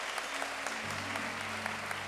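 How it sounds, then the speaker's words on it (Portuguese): Church congregation applauding during a worship service, a steady, moderately loud patter of many hands clapping, with a sustained low tone from an instrument underneath. "Você pode aplaudir a Jesus aí"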